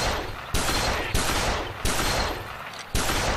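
Shotgun-style blasts from a duck hunting video game, four or five sharp, loud shots spaced roughly half a second to a second apart over a steady noisy background.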